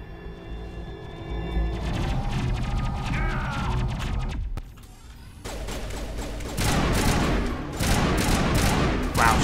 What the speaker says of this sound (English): Shooting is so much better.